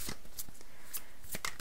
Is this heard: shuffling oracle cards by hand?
yes